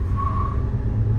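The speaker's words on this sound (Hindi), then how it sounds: "ये व्यूअर आपने मीटर देखना है और आवाज सुननी है टायरों की" Steady low road rumble from a Haval car's tyres rolling on the road, heard from inside as a continuous near drone with a faint whine, no voices.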